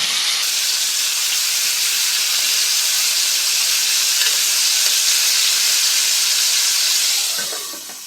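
Steady, dense sizzling of chicken frying in a hot pan, close and constant, easing off slightly in the final second as the frying slows.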